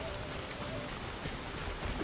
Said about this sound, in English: And don't you worry, the rain didn't stop.